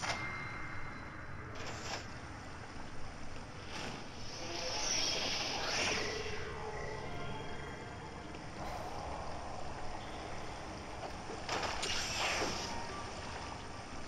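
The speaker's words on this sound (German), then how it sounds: "Oh, fahren wir mit dem Aufzug," A steady mechanical whir and rumble of an elevator ride in the video game Metroid: Samus Returns, with brief swooshing and clanking effects rising and falling over about fourteen seconds, no voices.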